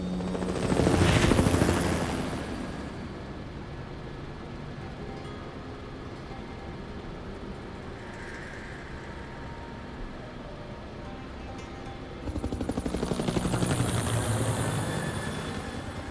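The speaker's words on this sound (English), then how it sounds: "The game still ends with a helicopter gliding off into the sunset" Helicopter in the video game Resident Evil 4, its rotor thumping loudly at first, fading to a steady distant whir through the middle, then swelling again as it passes close.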